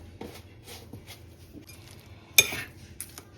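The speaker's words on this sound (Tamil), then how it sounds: "இப்போ சேர்த்து பிரட்டி விடுவோம்" Prawn dried fish with chili powder being stirred in a pan, soft scraping and light metallic clinks of a spoon against the pan, quiet and close, with one sharper clink near the end.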